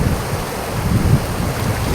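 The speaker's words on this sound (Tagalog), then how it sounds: "Kasi napakalakas ng agos dito." Strong river current rushing over large rocks, a steady broadband roar of flowing water that stays loud and continuous throughout with low rumbling turbulence.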